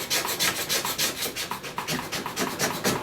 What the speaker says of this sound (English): I'm going to scrape the excess P-Tex from the core shot